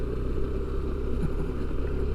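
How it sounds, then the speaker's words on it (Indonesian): Motorcycle engine rumbling steadily nearby on a rough, rocky dirt road, a continuous low drone with no talk. "Wah, ada motor lagi."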